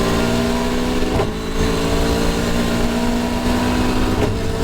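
A Caterham race car's engine drones steadily on a race track at high revs, loud and close as if from onboard, with brief shifts in pitch around gear changes.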